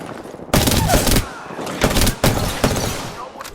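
Gunfire in the video game Apex Legends: loud, dense bursts of automatic fire, one long burst followed by a few shorter ones, close and dominant.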